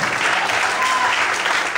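A church congregation claps together in sustained, dense applause that holds steady at full volume for the whole stretch.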